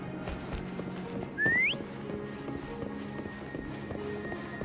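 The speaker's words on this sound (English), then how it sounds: "Why don't you call Foam over? Try whistling" A rising whistle sounds once in the Wuthering Waves video game to call a horse, a short clear upward sweep lasting about half a second over steady game ambience and faint hoof-like clatter.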